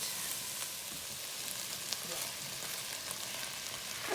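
Onions softening in a pot, a soft, steady low sizzle of gentle cooking, faint and continuous with only slight flickers, no voices over it.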